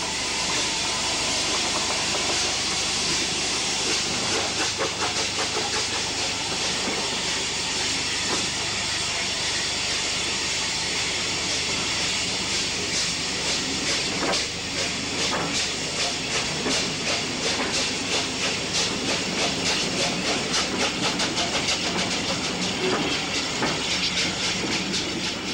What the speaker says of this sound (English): wreathed in steam, unrebuilt Battle of Britain 249 Squadron departs.